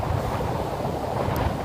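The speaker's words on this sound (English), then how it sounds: "Look at these waves, folks." Heavy ocean surf pounding the shore during a hurricane, a dense continuous roar of large waves mixed with strong wind buffeting the microphone, steady and loud throughout with no speech.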